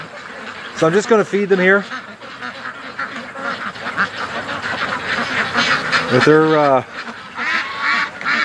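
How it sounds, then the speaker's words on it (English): Pet ducks, with geese-like honks mixed in, quack loudly close by in two bursts, with steady chatter between while someone talks over them at feeding time. "they're certainly content ducks today."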